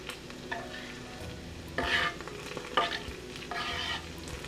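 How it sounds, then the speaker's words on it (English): Garlic fries in a pan for linguine and clams, giving a continuous quiet sizzle with several bursts of louder crackling as it is stirred. "so I have the garlic right here. Gonna put in the pan so it can brown"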